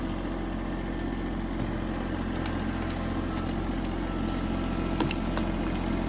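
A tractor engine idles while land is cleared, a steady low rumble with constant vibration and a few faint clicks, nearby and unbroken by speech.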